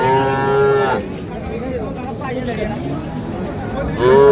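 Dairy cows moo loudly at the start and again at the end of a livestock market at Ambari, with a busy crowd chattering in between.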